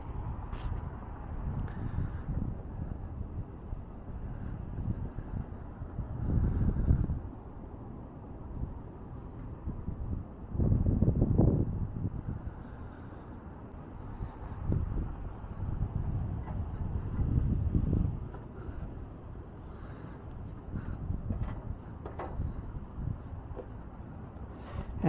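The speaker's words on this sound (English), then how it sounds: "as the sun sets, the wind speed picks up and it's getting a little cold" Wind blows outdoors at sunset with rising speed, rumbling in low gusts that swell and fade against the microphone for the whole stretch, with no voices.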